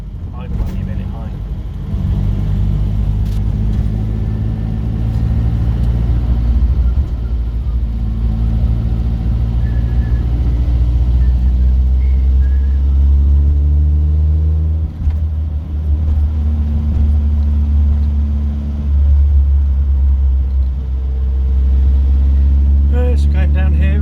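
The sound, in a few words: classic car engine running while driving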